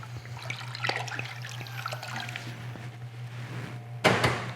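White wine poured into a pan of poaching water for salmon, a soft trickling splash in a kitchen with a steady background hum, followed by a brief louder splash near the end.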